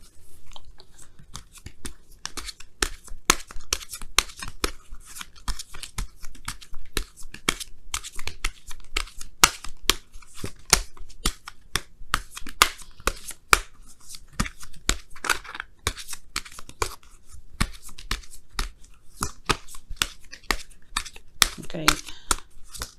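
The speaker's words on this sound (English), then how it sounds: "I'm going to give you guys a quick shuffle here" Tarot cards being shuffled by hand, a long run of quick, crisp riffling snaps and papery flicks in irregular bursts, close and fairly faint, with no talk over them.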